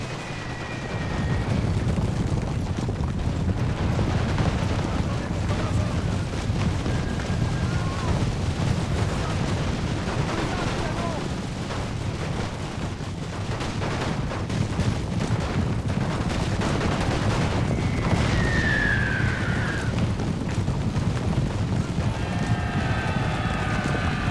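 Rifle volleys and galloping cavalry in a Great War mod strategy game, France against Germany: a continuous dense battle roar with scattered gunfire and hoofbeats, occasional whistling shells or calls cutting through near the end.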